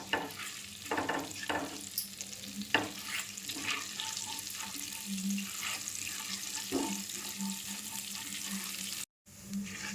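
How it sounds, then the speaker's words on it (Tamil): Whole spices such as cumin frying in oil in a pan as the base for chicken gravy, with a steady soft sizzle, occasional stirring clinks and a brief water-like rush, close up and without any talk. "1 நிமிஷம் நம்ம ஃப்ரை பண்ணலாம்."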